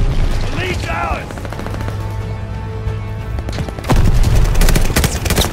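Heavy gunfire in Call of Duty Vanguard, a match with rapid automatic bursts that run on continuously and swell louder near the end, layered over game music and announcer voice lines.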